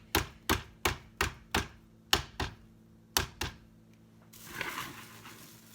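A knife chops hard-boiled eggs on a board in a home kitchen: about eight sharp, evenly spaced thunks up close, then a soft, scratchy rustle as the chopping ends.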